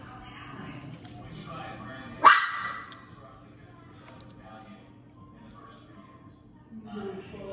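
A small dog gives one sudden, sharp yelp in an otherwise quiet room, with people talking softly before and after.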